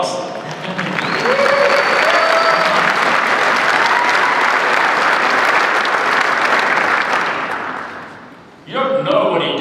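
An audience at a December university recognition ceremony claps in a loud, sustained ovation that fades toward the end before a voice speaks.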